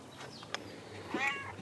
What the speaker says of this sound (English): So basically, this cat came last night.